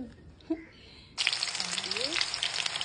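Fenugreek seeds and green chilies start frying in hot oil, a sudden loud broadband sizzle bursting in after a second of quiet kitchen sounds and continuing steadily, with a brief faint voice before it.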